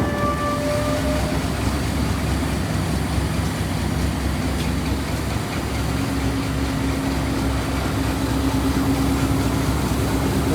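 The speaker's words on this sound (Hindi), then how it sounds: "2:42 पर ट्रेन हमारी निकल चुकी है लाला मूसा जंक्शन से 148 ऑन मियाँ वाली एक्सप्रेस।" Mianwali Express train pulling out of Lalamusa Junction, a steady broadband rumble of rolling wagons and engine noise with faint tonal hums, continuous and fairly loud throughout with no talking.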